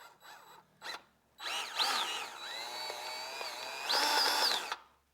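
Dewalt cordless grease gun being primed, its small motor whirring in short bursts with rising and falling pitch, a couple of brief clicks first, then two sustained runs separated by a dip.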